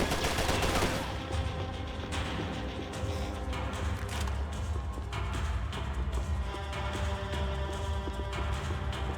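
Sustained gunfire in the action video game Max Payne 3, with dense rapid shots and crackling impacts layered over a constant rumbling game soundscape, loud and continuous throughout.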